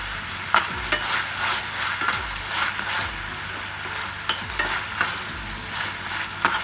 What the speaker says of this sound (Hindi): अब हम इसमें हमारे बीन्स डाल देंगे।